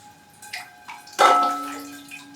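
Water poured over a freshly repotted Paphiopedilum lianum orchid in a dry potting medium, a short burst of splashing and trickling after a few faint drips, with a steady low hum underneath.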